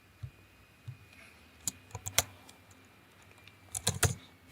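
Keys tapped on a computer keyboard in a text editor, heard as scattered, fairly close clicks: single taps early on, then tighter bursts of keystrokes near the end, over quiet room noise.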